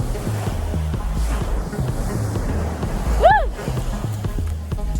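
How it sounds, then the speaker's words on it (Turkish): Waves wash steadily against a moving boat at sea amid wind noise, with a low engine hum underneath and a brief whistling cry in the middle. "Şu an denizdeyiz ve dalgalar beni"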